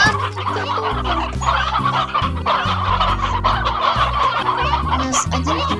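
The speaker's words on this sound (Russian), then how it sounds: "У нас один петух" Chickens in the video game Slime Rancher cluck and gobble continuously, a dense, loud run of repeated fowl calls with no talking.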